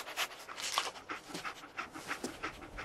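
Dogmeat, the dog companion in Fallout 4, panting close and steady in quick rhythmic breaths for a few seconds, with no talking.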